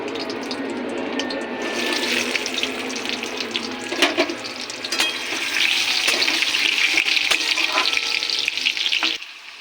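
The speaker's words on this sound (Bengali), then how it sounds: "তেল গরম হয়ে গেছে আলুটা ভেজে নেব" Loud continuous sizzling and crackling of small potatoes frying in hot oil in a wok, with occasional clinks and scraping, steady throughout before cutting off; no talk.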